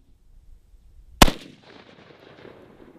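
A handgun fires a single sharp, loud shot downrange at a shooting range, its crack trailing off into a short echoing decay, with near silence before it.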